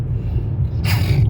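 A single short sneeze from a nearby person, a sharp burst after a breathy intake, over a low steady background hum.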